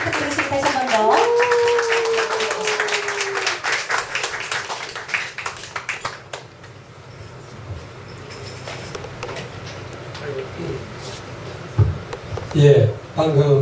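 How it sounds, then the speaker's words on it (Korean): Audience at a poet's book concert clapping again, a burst of applause early that thins out, followed by a speaking voice and scattered small taps and shuffles in a hall. "박수 부탁드리겠습니다. 다시 한 번 더."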